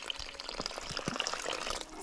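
Water pouring and splashing continuously from a mountain spring near Lisia Polana, a close, bubbly trickle with small drips, fairly quiet and without voices.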